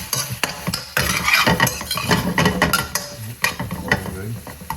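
Onions sizzle and crackle in a hot pan over a gas flame for chicken adobo, broken by sharp stirring clatters and scrapes of a utensil against the pan, with irregular pops.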